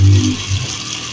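Water poured into a pan of cooking masala for potato and eggplant sabzi, a short loud splash and gush that quickly fades to a low simmering hiss.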